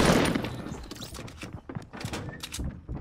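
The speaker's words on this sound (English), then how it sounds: "Who was shooting me?" Fortnite gunfire crackles in sharp, scattered bursts over dense in-game noise, with rapid thuds and impacts close by across the whole stretch.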